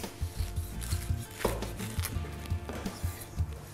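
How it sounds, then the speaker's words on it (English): Knife slicing cooked venison burgers in half outdoors, giving soft scraping and tapping against a board or plate with light clatter, close by and without talk. "I'll go and cut these in half"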